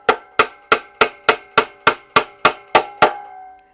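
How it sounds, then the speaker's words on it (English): A hammer taps a red dot mount onto a pistol slide, eleven sharp metallic strikes in a steady, even rhythm, close and loud, each ringing briefly before the next. "we want to make sure that we're just hitting the mount itself and not the slide"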